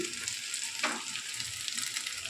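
Ghee sizzling in a hot cooking pan, a brief, even hiss of frying fat that stays close and continuous without any voices.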